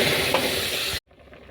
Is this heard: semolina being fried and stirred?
yes